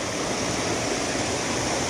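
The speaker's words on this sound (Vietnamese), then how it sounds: "thác đẹp quá." A forest waterfall and stream rush steadily, a dense, loud, continuous roar of falling and flowing water heard close with no other sounds.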